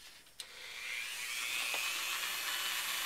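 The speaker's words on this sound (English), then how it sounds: "I'm going to drill mine" A small hand drill bores a hole in balsa wood for a model blade wire, a steady high whine that starts after a brief click and runs continuously, close and fairly quiet.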